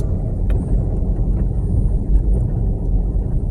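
A concrete mixer truck with a burst rear tire keeps driving, producing a loud, steady, low rumbling roar of engine and road noise mixed with wind buffeting and a brief knock near the start.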